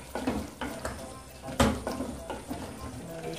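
Chicken pieces frying in a pan for a stroganoff, releasing their own juices, with a soft steady sizzle broken by the clatter of a utensil stirring against the pan and a voice talking over it.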